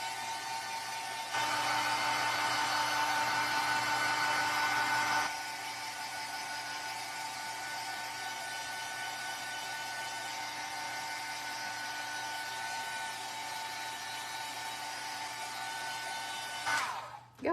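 Hair dryer drying a craft piece at a tabletop: a steady blowing hiss runs quietly throughout, louder for a few seconds early on as the setting or angle changes, then continues softer until a brief clatter at the end.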